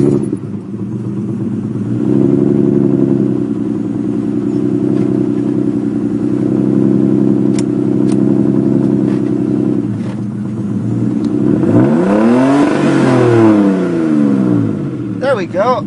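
A 1983 BMW E28 533i with straight pipes idles loudly, then its engine is revved up and down in rising and falling sweeps, close and raw throughout.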